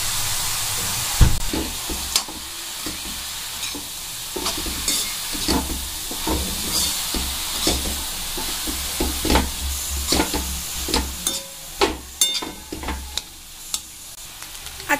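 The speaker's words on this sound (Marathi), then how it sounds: "आता आपण हे परत एकदा मिक्स करून घेऊया" Carrot halwa with raisins being stirred in a pan, repeated scraping strokes of a spoon against the pan over a continuous sizzle, fairly close, irregular rhythm, no voices.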